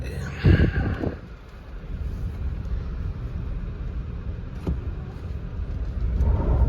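Engine and road rumble from a 2019 Chevrolet Bolt EV pulling away hard on dirt with front tires spinning, a loud surge at the start and then a steady low roar building again toward the end.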